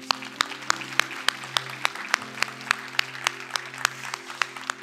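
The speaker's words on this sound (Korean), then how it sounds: "우리 이 집회를 열어주신 하나님께 감사의 박수 드립니다." A church congregation at a pastors' wives' gathering claps in thanks. Sharp, evenly spaced claps ring out over a sustained organ-like drone, steady and fairly close, with a few softer claps filling the gaps.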